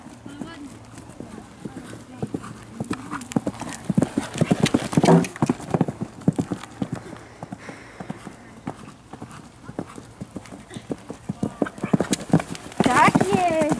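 Horse hooves thudding during show jumping, an irregular run of close clip-clop beats with louder bursts toward the end, while people talk throughout.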